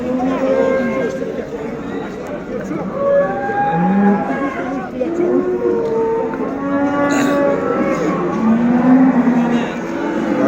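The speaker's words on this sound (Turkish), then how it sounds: "Maşallah bu hafta güzel inekler de gelmiş" Several cows moo repeatedly at a livestock market in Göksun, Turkey, some near and some farther off, over a low background of crowd chatter.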